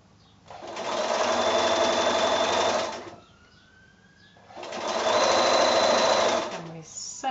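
A sewing machine stitches the seams of a quilt block in two sustained, steady runs of rapid mechanical whirring separated by a brief pause, close and loud.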